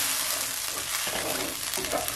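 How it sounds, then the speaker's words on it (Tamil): Masala for a dried anchovy curry sizzles steadily in a hot pan while a utensil scrapes and stirs through it, close and continuous with no talking. "நல்லா கலக்கிக்கிறோம்"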